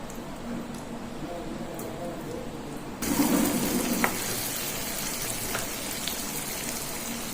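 Kara seedai, savory rice-dough balls, dropped into hot oil for deep frying: a steady hiss jumps to a louder, bubbling sizzle partway through and then holds, close and continuous, with faint background voice.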